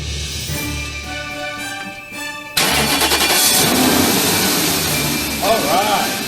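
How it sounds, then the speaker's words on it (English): A BMW 740 under repair for its oil system and timing chain guide cranks briefly and catches, then settles into a loud, steady running idle close by. "So let me go and start the car."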